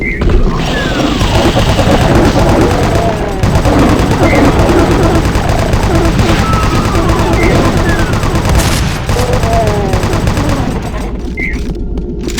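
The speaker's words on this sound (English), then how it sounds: "Shotgun, shotgun." Shotgun blasts in the Doom video game played with an accessibility mod, loud repeated booming shots with game sound effects and chirps layered throughout, dense and continuous.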